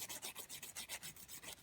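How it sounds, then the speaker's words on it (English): Nail file rubbing quickly back and forth around the tip of an artificial nail, a close, soft scratchy rasp in about eight even strokes. "I'm filing around like the very top of the tip."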